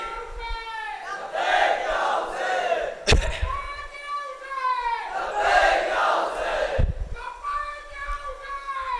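A congregation at a Muharram majlis shouts a religious slogan in unison, with loud collective cries rising and falling in several waves, and sharp thumps punctuating between them.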